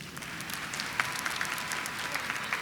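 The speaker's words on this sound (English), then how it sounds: "Can you give them all a round of applause," An audience at a high school graduation ceremony applauds, a continuous wash of clapping with a few sharper individual claps standing out, heard at moderate distance.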